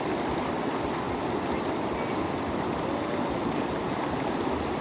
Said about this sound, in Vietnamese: Nước ở chỗ cái suối này là chảy quanh năm luôn á, tại vì suối này là suối lớn.